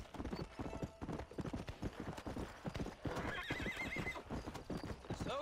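A horse gallops in the Red Dead Redemption video game, with rapid rhythmic hoofbeats close by and a neigh partway through, under faint game ambience.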